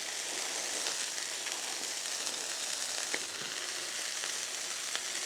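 Butter sizzles on a hot griddle next to burgers, giving a steady, close hiss of frying with small crackles and pops scattered throughout and no talking.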